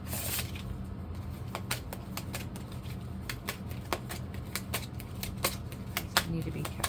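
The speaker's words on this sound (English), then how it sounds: "I'm pulling one of these cards for you" A deck of tarot cards is shuffled, giving close, quick papery riffles and flicks in an uneven rhythm, with quiet talk in the background.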